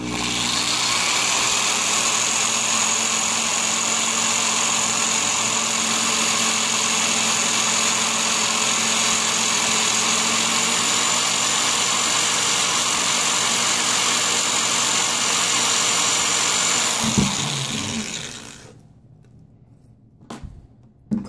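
A power drill twisting wire runs steadily at high speed for a long stretch, a loud whirring whine, then winds down and stops, followed by a few faint clicks.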